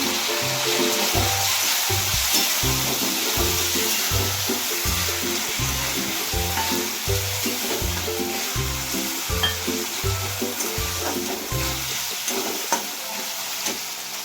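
Onion with ginger-garlic paste and green peas sizzling and frying in a pan for puri bhaji, a steady loud crackle with rhythmic stirring strokes throughout, no talk.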